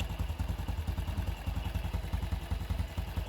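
A 2019 Honda Wave 110 motorcycle idles after a carburetor overhaul, a steady close, rhythmic low putter with even pulses and a light mechanical clatter, no talking.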